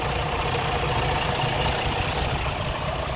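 A truck engine with a brand-new fuel pump assembly idles steadily and loudly up close, a constant rumble with no voices over it.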